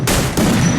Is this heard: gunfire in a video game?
yes